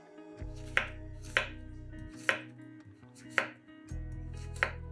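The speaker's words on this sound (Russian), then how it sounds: "Небольшие кабачки нарезаем кружочками." A knife chops through zucchini on a cutting board, five crisp cuts at an uneven pace, with a low hum between them.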